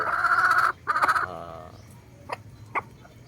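A Boston breed rooster kept for breeding gives a couple of loud, close clucking calls, followed by a few short, fainter clucks against a quiet background.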